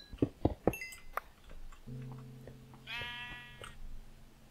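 Sheep bleating in modded Minecraft, a single drawn-out bleat heard clearly after a few short clinks and taps, with a low game tone underneath and no talk.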